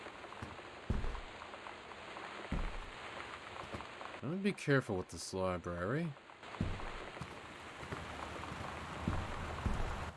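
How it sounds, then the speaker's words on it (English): Steady rain falls outside a window in the Gone Home video game, a soft continuous patter through the whole stretch, with a person talking over it in the middle. "that's the window outside. You can see it's raining"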